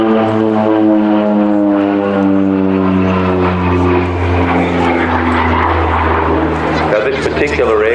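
An OV-10 Bronco twin-propeller aircraft drones loudly past at an air festival, its engine pitch sliding steadily downward as it passes, while a commentator talks over the sound.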